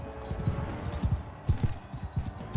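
Horse hooves clip-clopping in the Mount & Blade II Bannerlord video game, a steady run of hollow low thuds over a continuous background hum, with no talk.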